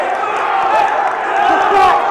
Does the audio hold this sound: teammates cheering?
yes